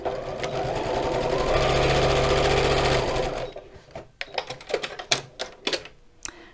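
A sewing machine stitches straight across a fabric seam at a corner, a loud, close, continuous whirring chatter for about three seconds, then stops, followed by sharp clicks and knocks of fabric handling.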